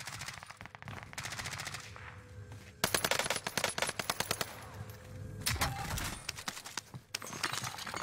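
Video game gunfire rattles in rapid automatic bursts and single cracks, sharp and loud against a quieter game background, alone without voices.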